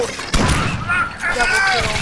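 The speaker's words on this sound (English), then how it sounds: "I like how it scatters a lot too, so it is like the scatter gun" A single heavy blast from a slow-firing, scatter-gun style weapon in the game Alien Swarm, booming once near the start before voices talk over the fading rumble.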